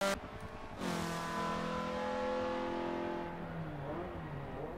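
A Mazda MX-5 Cup Edition race car engine at Road Atlanta revs up sharply after a brief blip, then holds a strong, steady drone before easing off slightly, heard clearly and without voices.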